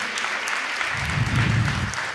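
A church audience claps loudly for a pastor during a service, a dense burst of applause that swells briefly in the middle and continues steadily without any voices.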